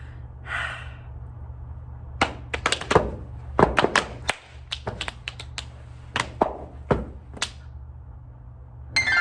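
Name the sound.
off-beat body percussion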